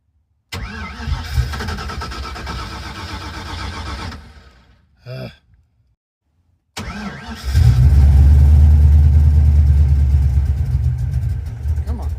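A carbureted car engine fitted with an Edelbrock 1405 carburetor and a manual choke cranks and stalls, then fires up and runs loudly near at a rough idle.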